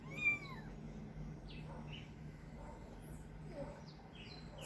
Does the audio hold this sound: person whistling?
no